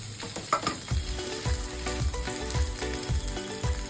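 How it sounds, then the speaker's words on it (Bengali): Paneer cubes fry in hot oil with a loud, continuous crackling sizzle, while a rhythmic low thump of stirring or tossing repeats about twice a second, close up and without talk. "এই পনিরগুলো আমি একে একে দিয়ে দিচ্ছি। পনিরটা ভাজা হয়ে গেছে।"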